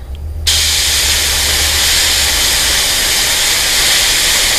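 Spray paint hisses from a can onto a stencil in one loud, continuous, close burst after a brief quiet start, with no talking.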